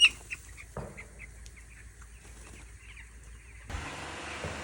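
Small chicks peep in scattered, high, thin chirps close by, with a rougher burst of noise rising near the end.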